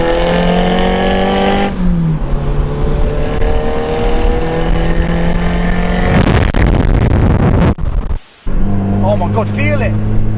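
Turbocharged Mazda MX5 with a screamer pipe, heard from inside with the roof down: a loud droning engine note that shifts pitch as it revs and changes gear, with a brief cut near the end, and voices talking over it.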